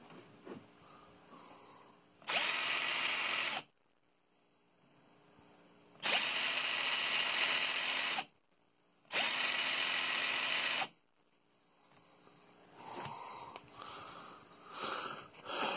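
A Harbor Freight cordless drill whirs in three bursts of a few seconds each, separated by short quiet pauses, close and fairly loud.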